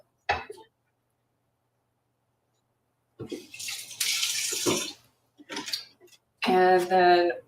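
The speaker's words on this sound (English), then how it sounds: "Let's rinse these off." Vegetables are rinsed under a running kitchen tap during meal prep for breakfast burritos and orange chicken, with a brief splash, then a longer steady gush of water, short bursts and a final louder run of faucet flow.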